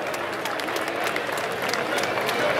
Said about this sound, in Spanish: ese aplauso fuerte para los primeros en llegar del tablero.